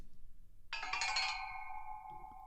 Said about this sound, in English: weird chime effect